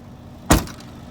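Trunk lid of a BMW 228i Gran Coupe shutting, a single solid thump close by with a short metallic ring afterward, set against quiet background.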